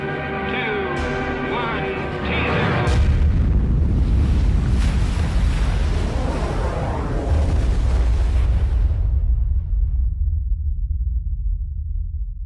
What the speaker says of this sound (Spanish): La potencia de la explosión es similar a la de 10 millones de toneladas de TNT